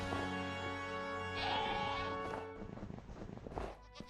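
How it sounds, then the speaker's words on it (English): Screaming goats in Minecraft, a sustained, strained bleating cry with a rising squeal partway through, followed by scattered softer clatter, moderately faint. "Chat, don't forget the screaming goats."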